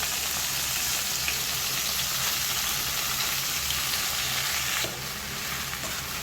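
Sorrel leaves frying in a tablespoon of oil, hand-stirred in a pan while making gongura pickle, give a steady, close, dense sizzle that runs throughout and eases slightly near the end.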